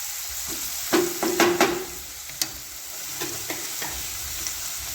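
Chopped onions sautéing in a pan until pink for dal fry, a steady broadband sizzle with a few close metallic spoon clinks and scrapes in the first half, then quieter frying with occasional stirs.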